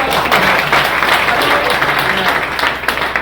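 A seminar audience claps loudly in a packed hall, a continuous dense roar of many hands close by, with voices mixed into the applause.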